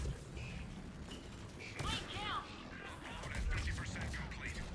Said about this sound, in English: Listen to these biotic explosions.